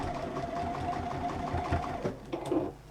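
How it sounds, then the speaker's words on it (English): A sewing machine stitches the last stretch of a seam on a fabric bag, running steadily for a few seconds with a whirring hum, then stopping briefly before a short burst near the end. "pop it under your machine and just finish that little bit of a seam off"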